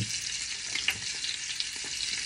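Salmon sizzling steadily in a hot pan, a dense continuous frying hiss with a few small pops, close and uninterrupted.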